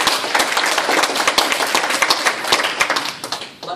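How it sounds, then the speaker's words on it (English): Steady round of applause from a Toastmasters audience for a student speaker, dense overlapping claps filling the room at an even level before tapering slightly at the end. "Please give him another big round of applause."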